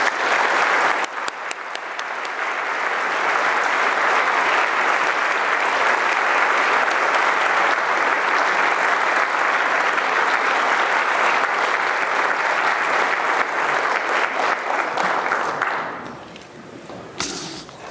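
An audience applauds Dr. Tariq Ramadan at a lecture on pluralism and Islam in the West, the dense clapping swelling fast and holding steady for about fifteen seconds before tapering off to a few last claps.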